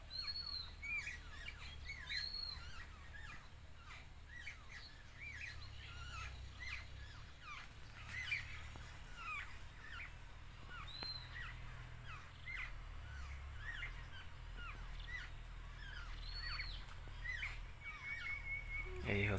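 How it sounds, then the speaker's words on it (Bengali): Common mynas, doves and a magpie-robin call around a village farm in rural Bengal: many scattered chirps, whistles and crow-like caws, faint and distant over a low steady rumble. "পাখির শব্দগুলো অবশ্য ভালোই লাগে আমাদের"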